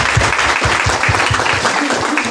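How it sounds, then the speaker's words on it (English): Audience applause at a nerd-themed open mic night of lightning talks, a loud burst of hand clapping with distinct rhythmic claps up close and a murmur of voices mixed in. "So let's give him a round of applause."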